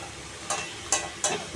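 Lentil fritters added to a radish and potato curry in a pan, a low sizzle with three quick stirring scrapes in a row, close and clear.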